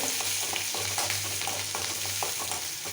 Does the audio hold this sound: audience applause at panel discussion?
no